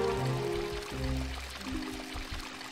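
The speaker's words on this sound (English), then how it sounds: "gonna pour water into it" Water pours steadily from a waterskin in the PC game Tomb Raider: The Last Revelation, a continuous splashing stream heard up close with no talk over it.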